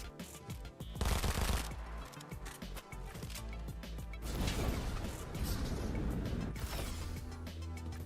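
Gwenpool SMGs firing in a video game, dense rapid automatic bursts with crashing impacts and mechanical clatter over a backing music bed, loud and continuous throughout.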